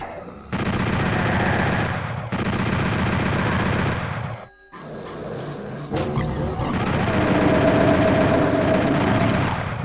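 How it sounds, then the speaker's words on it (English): Heavy weapon fire in the PS1 shooter Final Doom, dense rapid gunfire bursts over a loud continuous rumbling game soundtrack, with a brief drop-out midway. "If you like shooting with big guns, killing demons and stuff like that, Final Doom's definitely a game you gotta check out"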